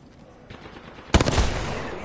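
Video game gunfire in a live-streamed match: faint scattered shots, then a sudden loud close burst of rapid fire that trails off into reverberant echoes.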